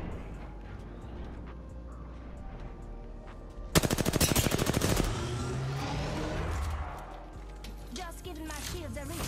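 Apex Legends gunfire: a sudden rapid burst of automatic shots lasting about a second, followed by ringing echoes and further game effects, with a player talking over it.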